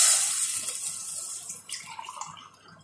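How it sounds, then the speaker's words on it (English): Water pours into a cooking pot with a bright, splashy hiss that gradually softens and thins over a few seconds, close by, with no one talking. "you add 1/2 liter of water"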